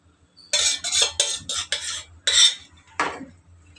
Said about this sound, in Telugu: వేసుకుని ఒక్కసారి పన్నీర్తో ఈ పేస్ట్ అంతా బాగా కలిసేలా కలిపేసుకోవాలి